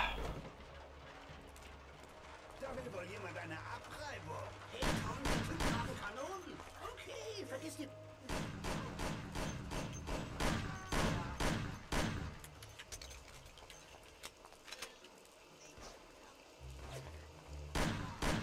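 Colt pistol gunshots in the Mafia video game, sharp cracks fired in irregular bursts among other game shots and impacts, fairly quiet overall, with a voice talking at times.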